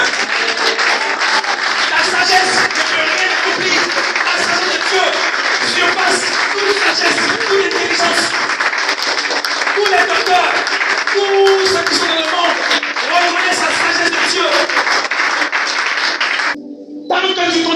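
Congregation at a sermon cheering, clapping and shouting praise to God, a loud, continuous wash of crowd noise with applause that carries on for many seconds before cutting off briefly near the end.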